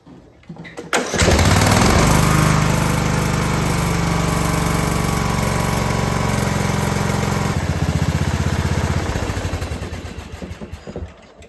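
A Craftsman DYT4000 riding mower engine cranks and fires up, then settles into a loud, steady idle with a constant low rumble that eases slightly near the end.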